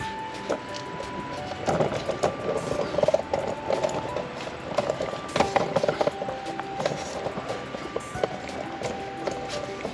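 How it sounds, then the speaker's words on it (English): The rear brake caliper piston on a Honda Civic Si is turned back in with a tool, making close, uneven ratcheting clicks and mechanical scrapes that come in short bursts. "So what I'm going to do now is turn in the piston."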